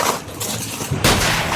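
A sharp gunshot cracks out about a second in, over steady outdoor noise, on Mount Taririt in the Philippines.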